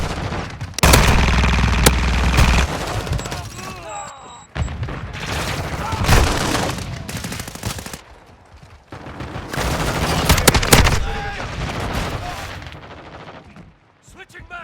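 A full auto shotgun fires in a video game, with dense bursts of loud, booming blasts in rapid succession and brief pauses between volleys, mixed with game voice callouts and other battle noise.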